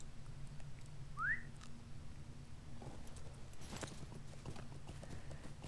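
Hoofbeats of a horse mount galloping in a video game, a steady clip-clop rhythm running throughout, with a brief whistle-like chirp early on and a low background hum beneath.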